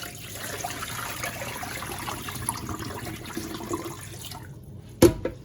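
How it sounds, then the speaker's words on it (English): Hot water pours and trickles out of a pot of khao poon noodles into a sink, a soft steady running stream that ends in a brief clatter near the close. "So you just pour it out and then pour some more cold water to it."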